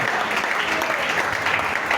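A church congregation applauds during a worship service, a dense, steady wash of clapping that fills the space for a couple of seconds.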